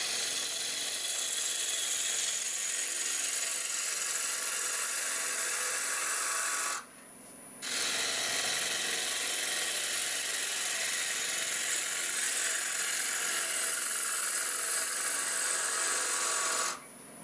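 A cowboy hat turned from wood on a lathe, the cutting tool stepping its cuts toward the tenon, gives a steady loud scraping whir that stops briefly twice.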